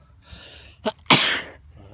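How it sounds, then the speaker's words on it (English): A single sharp human sneeze outdoors during a casual walk, preceded by a short breathy intake and a quick catch of breath, loud and close. "I'm gonna sneeze."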